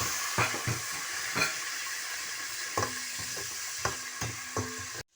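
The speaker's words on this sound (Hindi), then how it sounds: "अब डालते हैं इसमें टमाटर।" Tomatoes go into a pot of whole spices, green cardamom and black pepper, frying for a matar pulao. A steady hiss of sizzling oil runs throughout, with repeated scraping and clinking stirs, close and loud, then stops abruptly near the end.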